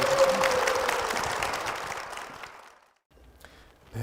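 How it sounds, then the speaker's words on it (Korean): A church congregation applauds to welcome a guest, a full burst of clapping that tapers off and fades to near silence, followed by a faint voice. "박수로 모시겠습니다."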